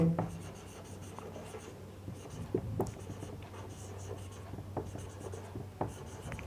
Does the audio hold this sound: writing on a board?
yes